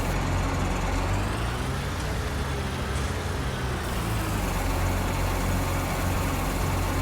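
A steady, droning tractor engine rumble from the video game Farming Simulator 19 runs throughout, constant in level, idling and chugging along with no voices.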